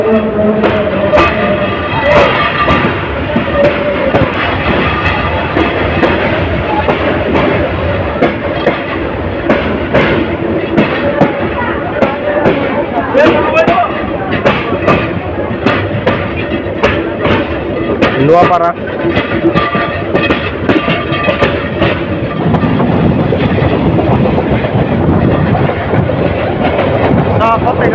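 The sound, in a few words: Parabat Express train leaving Noapara railway station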